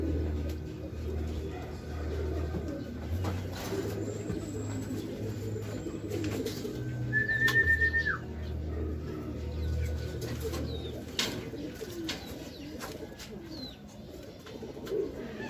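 Racing pigeons coo in low, soft, repeated throaty phrases close by at a loft during a derby arrival, with occasional chirps and light outdoor background noise.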